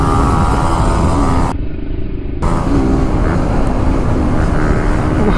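A motorcycle roars along the road at speed, its engine loud and close with a droning, continuous tone that dips briefly in the middle before surging back.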